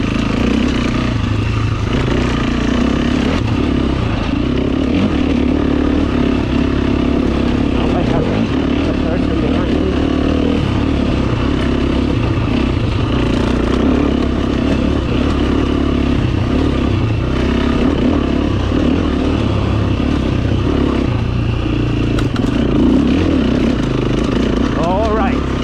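An enduro motorcycle's engine drones steadily and loudly through a lap on a slippery new track, its pitch wavering as the rider works the throttle, with some clattering throughout.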